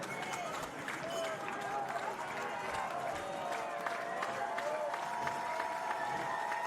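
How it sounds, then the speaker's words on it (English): Home crowd at a West Coast League baseball all-star game in Bellingham, Washington, a steady broad roar of cheering and chatter under a commentator's voice, with a faint whistle-like tone drifting through. "Bellingham cheering the North Division on to a second consecutive All-Star Game win"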